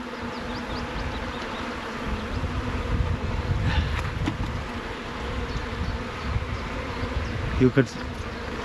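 Honeybees swarm around an open hive in a steady, dense buzz that fills the whole stretch, and a voice speaks briefly over the hum.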